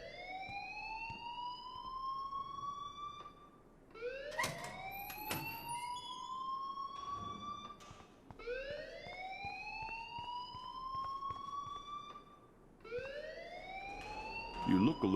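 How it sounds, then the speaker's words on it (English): A looping alarm in the video game Life Is Strange wails in repeated rising sweeps about every four seconds, with sharp clicks and other game sounds scattered beneath it. "please turn off that alarm since that's your job"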